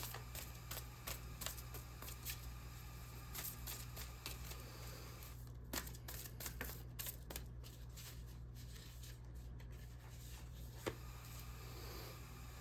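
Moonology oracle cards being shuffled by hand, a quiet sequence of soft riffling flutters and light taps repeating irregularly, close up against a faint steady hum.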